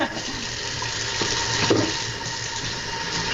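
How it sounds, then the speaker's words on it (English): Hands are washed under a kitchen tap while spinach is being prepared, a steady close stream of running water splashing into the sink, with a brief knock partway through. "sorry, let me wash my hands."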